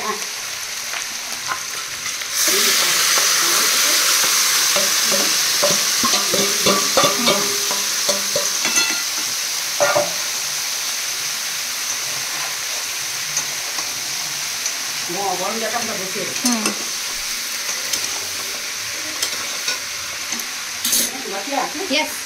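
Cabbage fries in a pan with ginger and garlic for a fish-head cabbage dish, giving a continuous bright sizzle with scraping stirs that sets in after a quiet start and runs throughout, with voices briefly audible underneath.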